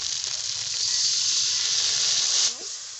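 Ground spice paste with a splash of water hits hot oil holding browned onion and garlic for a village-style crab curry, giving a steady broad sizzle that lasts about two and a half seconds before easing to a softer hiss.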